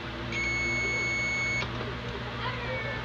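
A steady electronic multimeter continuity buzzer beep sounds once for about a second, indicating a shorted diode in a DVD player power supply, then stops, over a low hum and faint background noise.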